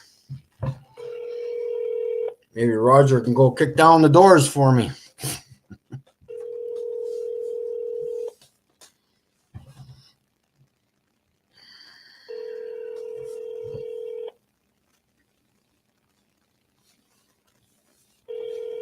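A telephone dial tone sounds in steady, loud stretches separated by silences, with a burst of keypad dialing tones near the start and someone speaking briefly over it.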